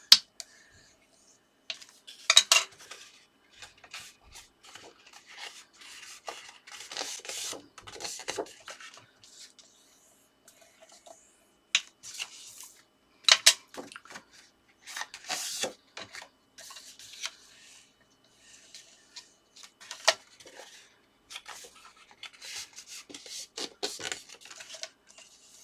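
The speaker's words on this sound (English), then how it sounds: "you need to fold and burnish each of the score lines" Paper for a junk journal album being folded and burnished along score lines, with scattered short scraping rubs and crisp creasing bursts separated by quiet gaps.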